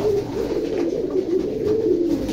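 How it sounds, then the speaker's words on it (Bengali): Frightened older Pakistani pigeons coo continuously nearby, layering low, throaty warbling calls into a steady murmur with no talking. "কবুতর গুলা ভয় পাইতেছে দর্শক, পুরনো কবুতর তো ভয় পাইতেছে।"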